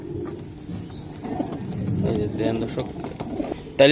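Racing pigeons coo softly and repeatedly in a low, murmuring rhythm, with people talking nearby over the birds.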